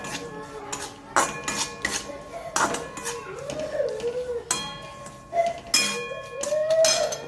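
A spoon clanks against a pot as salt and turmeric are mixed for dal dhokli, sounding as sharp metallic clinks and scrapes at irregular intervals over a quiet background.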